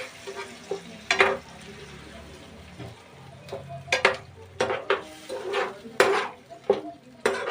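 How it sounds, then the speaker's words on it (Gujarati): A spoon stirs palva fish curry in a pan after turmeric and a splash of water go in, giving scraping clatters and soft sizzling in irregular bursts close by, with no talking. "અને હવે આપણે આને હલાવી નાખીશું"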